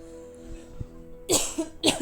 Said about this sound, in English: I have got a bit of a tickly cough